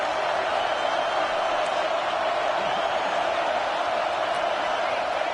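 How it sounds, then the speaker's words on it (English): Stadium crowd noise in a football video game during a fourth-down play near the end zone: a steady, distant roar of many voices, even and unbroken throughout. "This crowd looking for a big fourth down stop."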